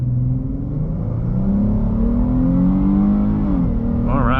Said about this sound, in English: I will mash that accelerator to the floor